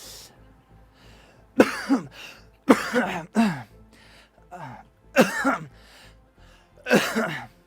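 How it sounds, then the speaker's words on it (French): A woman coughs in several sharp, harsh bursts spaced through the moment, some sounding like hard throat-clearing, loud and close with quiet gaps between. "Elle tousse plusieurs fois."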